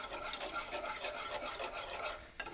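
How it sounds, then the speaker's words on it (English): Sweet and sour sauce with a touch of soy sauce being whisked together, a steady scraping swish that runs continuously at a soft, close level with no talking. "You just whisk that all together,"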